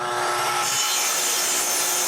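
A handsaw cuts a piece of wood to length for a plywood bathroom vanity, giving steady, continuous close rasping strokes for about two seconds with no talk.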